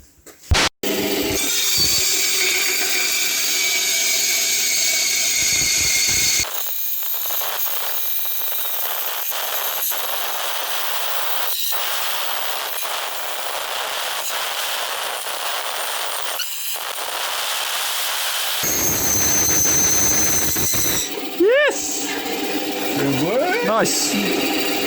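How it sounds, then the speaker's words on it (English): A bandsaw cuts a wheel arch template for a Volvo 950 truck with a loud, harsh, continuous screaming whine that holds steady for around twenty seconds. Short workshop noises come before and after the cut. "we're about to attempt to cut it out on the bandsaw"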